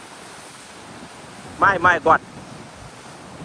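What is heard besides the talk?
sea waves surging on the shore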